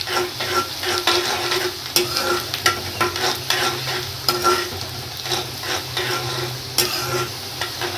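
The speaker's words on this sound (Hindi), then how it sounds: "अब इसको भी प्याज के साथ में ही भूनेंगे।" Finely chopped small green chilies fry with onions in a pan. The sizzle is steady and close, broken by repeated scraping stirs, with no talking.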